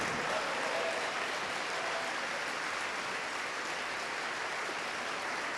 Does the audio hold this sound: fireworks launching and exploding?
no